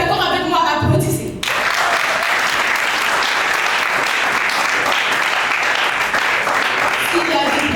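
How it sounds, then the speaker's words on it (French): A packed hall at a French-language eloquence contest semifinal bursts into loud, sustained applause after a brief moment of speech, dense clapping filling the room for several seconds. "Si vous êtes d'accord avec moi, applaudissez."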